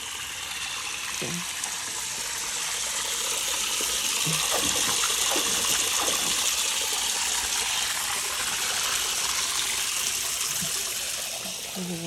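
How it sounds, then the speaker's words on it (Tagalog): Water gushes steadily into a container as it fills, a continuous rushing pour lasting the whole stretch, with a brief word of speech over it. "Punin ko natin ng tubig."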